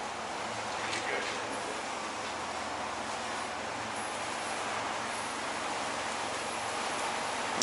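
Heavy rain pouring down outdoors during a freight pickup and delivery stop, a broad, steady hiss that runs the whole time at moderate level, with a few faint knocks and brief talk.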